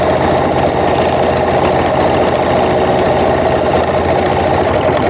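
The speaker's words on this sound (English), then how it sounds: "I have finished sewing the binding on by machine." Sewing machine running steadily as it stitches bias binding onto a jelly roll Christmas tree skirt, a loud, continuous motor hum with rapid rhythmic needle chatter, close and alone.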